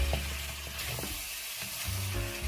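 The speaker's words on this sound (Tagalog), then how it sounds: "I-mix lamang po natin yan para mix ang ating fragrance ng ating ingredients sa ating liver." Chicken liver sizzles loudly as it is stirred with its ingredients in a hot pan, a steady frying hiss with scraping stirring strokes throughout.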